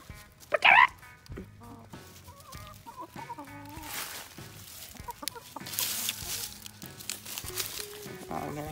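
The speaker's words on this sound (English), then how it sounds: "And they also have roosters and chickens" Chickens cluck in short bursts, opening with a loud squawk, while fainter clucking and scattered chatter continue throughout.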